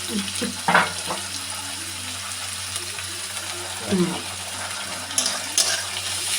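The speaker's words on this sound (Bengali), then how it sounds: "এবার আমাদের এই কাঁচা মালগুলো ভাজা চলছে" Raw vegetables for chow mein fry in a pan with a steady, loud hiss, broken by a few brief clatters and stirring knocks close by.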